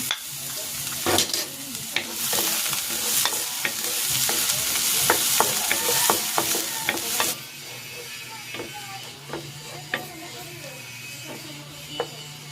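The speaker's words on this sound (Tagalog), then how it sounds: "Gigisa ko na tong sibuyas at itong bawang." Onion and garlic sautéing in oil in a pan, a loud close sizzle with repeated sharp spatula taps and scrapes, dropping to a quieter simmer with scattered clicks partway through.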